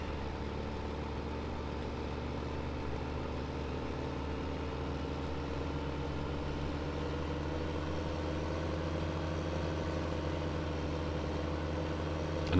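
A small tractor idles steadily in Farming Simulator 15, a low continuous engine drone with even harmonic hum that holds at a constant level throughout.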